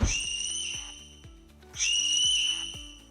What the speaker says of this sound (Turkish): Düdük dediğimizde desibeli yüksek bir ses çıkarıyor deneyelim.